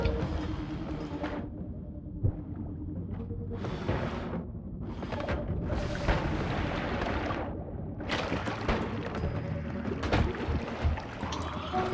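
A propane tank explodes in Noita, the pixel-physics game: a string of loud booming blasts and crackling bursts with fire and debris noise, close and dense across the whole stretch, over steady game rumble.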